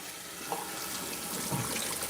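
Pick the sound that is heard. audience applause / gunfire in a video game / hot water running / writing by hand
hot water running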